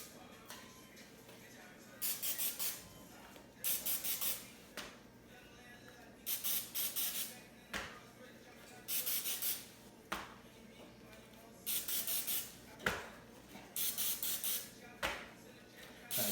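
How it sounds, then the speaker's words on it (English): Pam cooking spray misted over cauliflower for tacos, several short bursts of hiss in uneven clusters with quiet kitchen handling and clinks between them, close. "he's spraying Pam on there"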